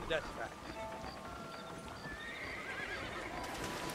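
Horses in the Western video game Red Dead Redemption whinny and gallop, with hooves clip-clopping steadily and shrill neighs rising above the game's ambient sound.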